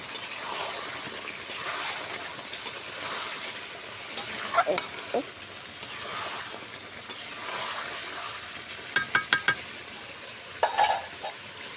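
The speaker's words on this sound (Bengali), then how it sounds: "ভাজা আলু দিয়ে এখন মাংসটা সুন্দর কষাই নেব" Beef with fried new potatoes stirred and sautéed in a pan, a steady soft sizzle broken by sharp scraping and clinking of a spoon against the pot, clustered near the end.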